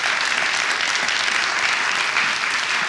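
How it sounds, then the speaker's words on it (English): An audience applauds musicians arriving on stage at a jazz talk on leadership, with a steady, dense wash of clapping that runs loud and unbroken for the whole stretch. "give them a round of applause"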